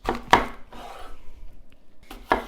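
A knife slices through apples on a cutting board, two crisp chops separated by a softer scraping cut and a quiet pause, close and clear with no talking.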